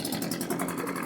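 An Echo PB-265LN leaf blower, freshly tuned up with a new spark plug, fuel filter, primer bulb and grommet, runs at a steady warm-up speed, giving a loud, continuous, close engine drone with a slight pulsing rhythm.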